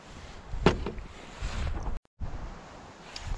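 Wind gusts steadily across an outdoor cooking spot, a rough, continuous low roar of buffeting against the microphone with a few brief knocks and a momentary dropout.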